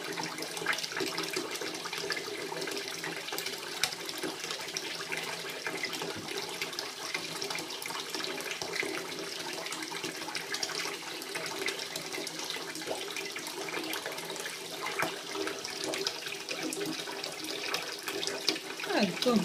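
Bathroom faucet water running steadily while a child's hair is wetted, a continuous splashing rush that carries on without pause, with a voice talking over it at times.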